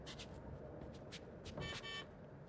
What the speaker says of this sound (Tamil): இவ்வளோ பெரிய காருக்கு ஹார்ன் மட்டும் ரொம்ப சிம்பிளாக கொடுத்துருக்காங்க